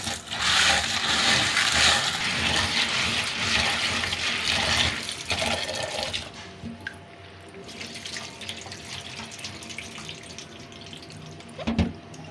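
Black chickpeas rinsed under running tap water: a loud, close gush fills the first six seconds, then softer sloshing and dripping with a brief splash near the end.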